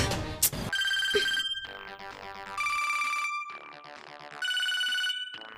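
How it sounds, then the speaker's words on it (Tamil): A telephone rings in a pulsing electronic ringtone, several bursts of bright repeating tones with short gaps, clear and close with no talking over it. "பிரியா மோளே ஃபோன் எடுக்கு"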